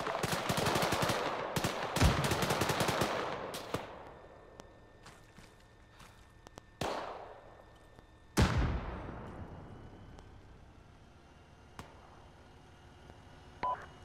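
Bursts of rifle and machine-gun fire in an Arma 3 night firefight, with a rapid opening volley, scattered sharp shots and two loud booming reports that trail off, some close and some distant.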